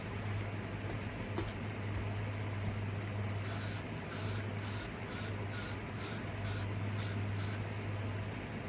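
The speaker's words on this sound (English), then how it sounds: "I got to put a little hairspray in this spot." Hairspray aerosol misted onto the hair of a Michael Myers mask in about eight quick bursts, close and hissy, over a low steady hum.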